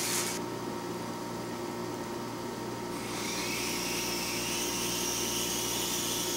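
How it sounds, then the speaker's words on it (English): AirHogs Axis 300X toy helicopter flying indoors, a steady faint whirring rotor buzz that shifts slightly in pitch partway through as it hovers. "That's a pretty good little flight"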